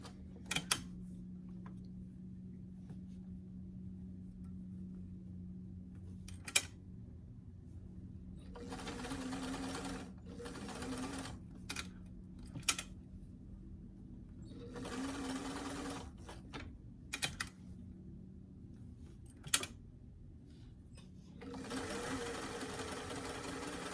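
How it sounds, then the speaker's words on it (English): A domestic sewing machine stitches a sleeve into a small doll T-shirt in short bursts of rapid mechanical whirring, separated by quiet pauses and a few sharp clicks as the presser foot is lifted and the fabric turned. "I just keep lifting my sewing foot and turning the sleeve into the garment."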